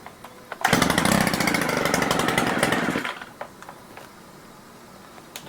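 A Stihl multi tool engine roars loud and close for about two and a half seconds, bogging with a rough buzzing note, then cuts back. Small mechanical clicks and a low idle follow, and nobody speaks.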